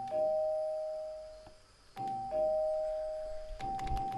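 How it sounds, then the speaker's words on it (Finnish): A doorbell rings in Fortnite, a clear two-tone ding-dong sounding three times in succession, bright and close, with small clicks of game noise in between. "Tässäkin on ovikellona."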